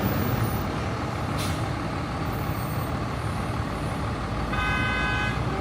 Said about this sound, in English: Why is that truck turning right around this car here?